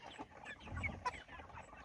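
Pastured Cornish and Freedom Ranger meat chickens cluck softly nearby in a short run of low murmuring clucks and small calls, faint with no talking.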